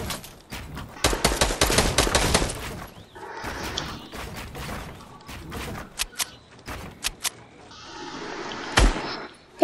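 Fortnite gunfire rattles in rapid automatic bursts up front, then gives way to scattered single shots, thumps and impacts, loud and close with short gaps between.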